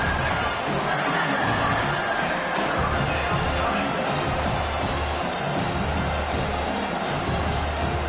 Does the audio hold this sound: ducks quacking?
no